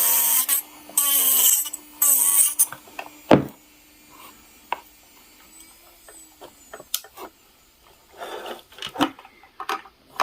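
Nail e-file drill running at 30,000 RPM grinding chalk, heard as bursts of high whirring grinding that are broken up by clicks and handling knocks, with quieter gaps between them.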